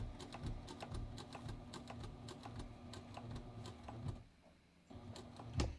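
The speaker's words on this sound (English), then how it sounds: "I'm going to stitch all the way to the base of the fly." A sewing machine runs a continuous stitching line along a zipper fly on a front fly zipper, with a steady mechanical whir and rapid clicking, a brief pause near the end, then a short resumed burst.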